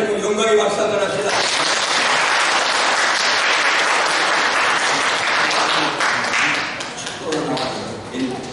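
A church congregation at a joint worship service of the Incheon police Christian mission breaks into dense, loud applause that swells and holds. A voice speaks briefly before and after the clapping.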